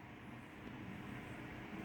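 Steam locomotives rolling along in a continuous, even rumble, steady and fairly close with no break or pause.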